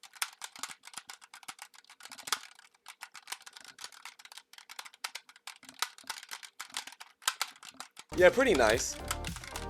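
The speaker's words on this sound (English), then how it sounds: "Here is also the sound of the keyboard for those who want to know." Rapid clicking of the mechanical keys on a Razer Tartarus Pro gaming keypad, typed in quick irregular bursts, close and crisp, with a short spoken comment near the end.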